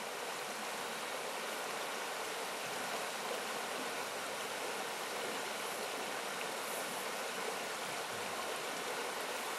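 Whitewater of Big Snowbird Creek in North Carolina rushes over a shallow strip, a steady, dense broadband roar of flowing stream water, close and continuous without pause.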